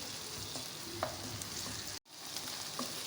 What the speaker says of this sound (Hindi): हम इसमें शामिल करेंगे हाफ़ टी स्पून नमक और इसको अच्छे से मिक्स करेंगे